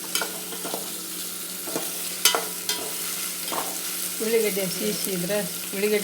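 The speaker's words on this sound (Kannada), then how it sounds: "ಅದು ಎಣ್ಣೆ ಹಾಕಿದ್ವಿ ಎಣ್ಣೆಗೆ ಹಾಕಿದಂತ ಸ್ಪೂನ್ಲಿ ಹಂಗೆ ತಿರುಗುತ್ತಾ ಇರಬೇಕು" A spoon stirs food frying in hot oil for chicken biryani, a quiet steady sizzle with scattered scraping clicks and soft bubbling, close and alone.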